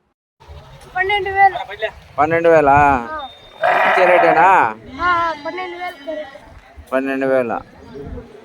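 Sheep and goats bleat repeatedly at a weekly livestock market in a market yard, with several loud, close, wavering calls in short bursts and pauses between them.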